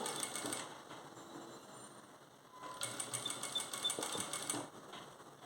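A sewing machine stitches an embroidered blouse, heard as quiet, close bursts of rapid mechanical clatter separated by a short pause.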